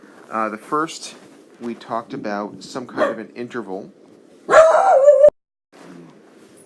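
A dog gives a single loud, close bark during a pause in a person's steady talking.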